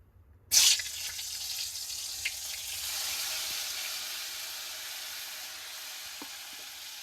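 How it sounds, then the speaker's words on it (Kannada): Chopped tomatoes drop into hot oil and sizzle in a steady, bright crackle that starts abruptly and keeps on, heard close and without talk, while a mushroom dish is being cooked at home. "ಚಟಪಟ ಅಂತೈತ್ರಿ ಈಗ ಅದು."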